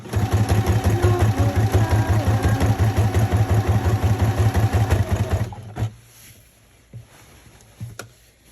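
A sewing machine stitches through a thick, boned dress in a fast, steady run of loud, even pulses that stops abruptly after about five seconds, followed by a few faint handling knocks.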